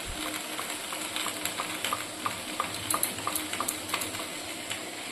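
A spice paste of ginger, cumin, chili, tomato and cashew sizzles in a frying pan, with a steady hiss of frying and scattered soft scraping stirs, close and moderate.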